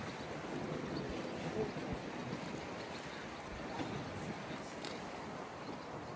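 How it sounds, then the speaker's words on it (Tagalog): Strong wind buffeting the microphone at a secluded beach by an old pier in British Columbia, a steady loud roar of gusts with surf-like rushing underneath, no talking. "Lakas ng hangin dito."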